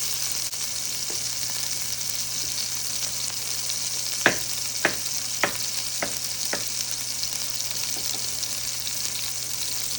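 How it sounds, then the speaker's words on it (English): Fresh green chilies sizzle steadily in a hot pan, a constant loud frying hiss with a few sharp pops and clicks, no voices. "Now, put the fresh green chilies on there. Start burning a bit."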